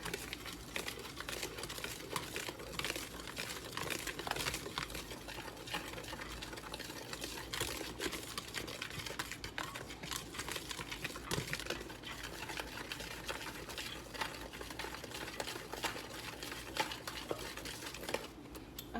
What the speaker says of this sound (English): Add a little cornstarch, and I'm going to mix that in. Mix it in with my flour.